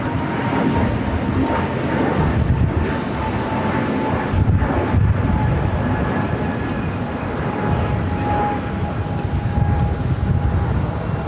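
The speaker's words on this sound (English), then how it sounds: "That was Avianca heading to Guatemala City, flight 641." An Avianca airliner bound for Guatemala City takes off from LAX runway 25, a continuous broad engine roar heard from a distance with wind buffeting the microphone.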